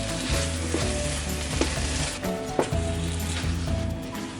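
Canned tomatoes sizzle and fry in a pan over medium heat while being stirred, with steady crackling and a few soft scrapes and clinks of a utensil. No one speaks.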